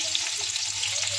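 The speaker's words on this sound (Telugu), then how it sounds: "పోపు దినుసులు చిటపట్లాడాక ఆనియన్స్ వేసుకున్నాము" Tempering spices and chopped onions sizzling in hot oil, a dense, steady close crackle with no pauses.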